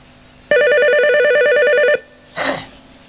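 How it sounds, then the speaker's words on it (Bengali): A telephone gives one sustained electronic ring, loud and close, lasting about a second and a half before cutting off, followed by a brief rustling sound. "ওই শালা আবার ফোন করেছে দেখি দেখি"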